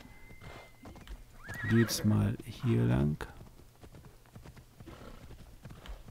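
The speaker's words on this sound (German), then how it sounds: "wir rufen jetzt erstmal unser Pferd." A horse in the video game Assassin's Creed Odyssey whinnies loudly over a background of hoofbeats, while a person talks alongside.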